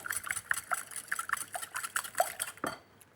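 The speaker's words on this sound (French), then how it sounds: "je mélange le tout" Egg yolks and whole eggs whisked together in a bowl for a summer clafoutis batter, a quick irregular run of clinking metal-on-bowl taps close by, ending with a louder clatter.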